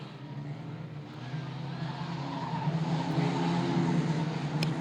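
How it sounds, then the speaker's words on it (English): Race cars at Bovingdon Raceway pull away together from the start, a dense, steady engine roar that builds gradually, with some tyre scrub and a sharp knock near the end. "So there it is, the cars get away."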